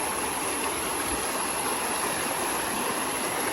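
A river flows steadily in a natural setting, its continuous rushing water close and even throughout, with no voices.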